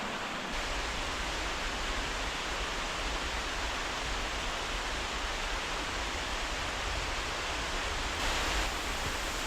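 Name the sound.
Koyo waterfalls on Mount Akaboshi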